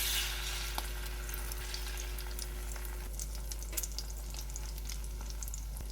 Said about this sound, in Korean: 예열된 팬에 식용유 넣어주고 깻잎을 올려주고